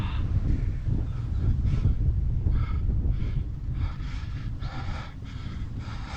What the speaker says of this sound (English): Get in between these trees, get away from that wind.